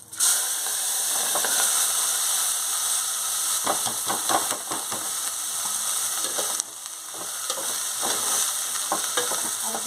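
Chopped onions frying in hot oil over a tempering of mustard seeds, cumin and asafoetida for a Kathiyawadi green onion and sev curry: a loud, continuous close sizzle with intermittent scraping stirs and no talking.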